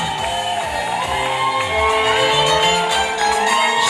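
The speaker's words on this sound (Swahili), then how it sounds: "Makofi na vigelegele." Dense crowd noise at a royal ceremony, shouting and cheering blended with high trilling ululation and clapping, loud and continuous.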